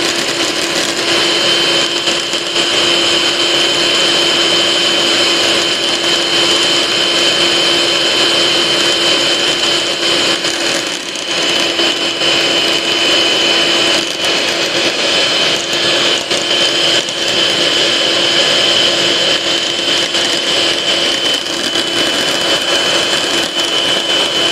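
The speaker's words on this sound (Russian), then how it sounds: "Я решила взять миксер. И взбиваю миксер." Electric hand mixer without whisk attachments whipping egg whites, a loud steady high-pitched motor whine with a constant tone that runs unbroken throughout, with no talking.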